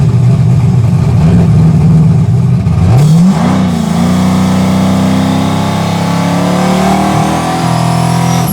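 A car engine on a dyno holds a loud, steady high drone, then drops and settles into a lower revving hum that climbs gradually, with a brief dip near the end, close and with no talk.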